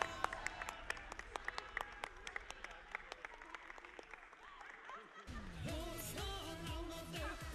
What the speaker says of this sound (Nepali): मिस्टर पारस दाहाल प्लिज एकचोटि जोरदार ताली सर